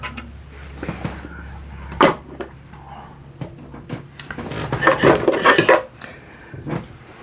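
Metal sockets from a socket set clink and clatter as they are handled, with a sharp knock near the start and a busier flurry of jangling contacts midway, close up and with no talking.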